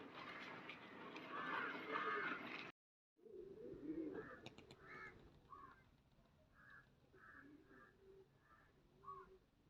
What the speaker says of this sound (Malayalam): നമ്മുടെ 2 പ്രാവുകൾ ഇറങ്ങിയിട്ടുണ്ട് കേട്ടോ